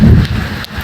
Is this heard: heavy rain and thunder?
yes